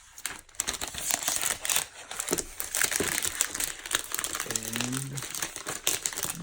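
Plastic wrap is peeled and crinkled off a 2021 MacBook Air with M1 chip during unboxing, giving close, busy crackling and rustling throughout, with a brief voice in the middle.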